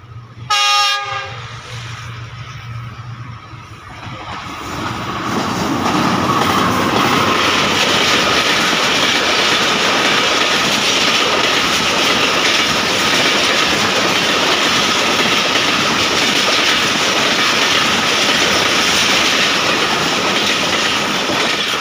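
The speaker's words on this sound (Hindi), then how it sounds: "अब हज़ारा एक्सप्रेस क्रॉस कर रही है" A Pakistan Railways Hazara Express passenger train passes a railway crossing near Adam Sahaba station, opening with a brief horn blast and then a loud, steady roar and rattle of passing carriages that continues to the end.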